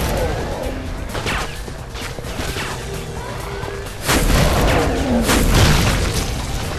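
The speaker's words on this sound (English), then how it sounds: "Who's still shooting at me?" Dense gunfire and heavy explosive booms fill a Painkiller Overdose shootout, loud continuous blasts with a louder burst partway through, with a voice talking over the action.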